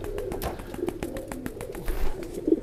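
A perkutut zebra dove coos in a bird song contest, its soft rhythmic notes repeating over a busy background of other birds and faint crowd murmur.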